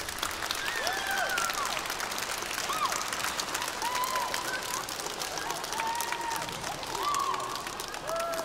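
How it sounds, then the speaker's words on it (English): Audience applause for parents at a K-2 elementary school winter concert, steady clapping throughout with children's voices and chirpy calls mixed in over a busy crowd. "Let's give your parents a round of applause."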